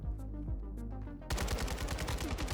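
A Kastov 762 rifle firing in Call of Duty MW2, a steady hum giving way to a fast, loud string of sharp automatic shots.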